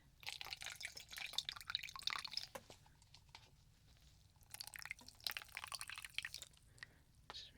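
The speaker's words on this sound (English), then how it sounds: "I'm going to soak it in some water here. And then I'm going to squeeze the water out." A water-soaked beauty blender makeup sponge is squeezed, releasing bursts of small, close drips and wet squishes that come in two clusters separated by a quieter pause.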